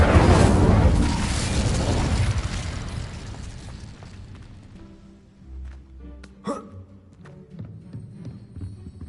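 A fire spell called Incendio bursts out with a loud roaring explosion that slowly dies away, followed by scattered softer thumps and crackles.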